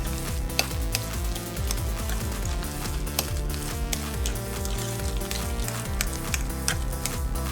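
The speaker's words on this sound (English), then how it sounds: "And now I'm going to stir everything once again." A seasoned mushroom gravy with salt and black pepper bubbles and sizzles in a pan while a utensil stirs through it, giving a dense, continuous frying texture with soft clinks and no talking.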